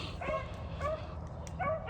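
Beagle puppies, Louisiana swamper beagles, bark and yip while running rabbits in winter cold, giving several sharp yelps spaced across a couple of seconds over steady outdoor background rumble.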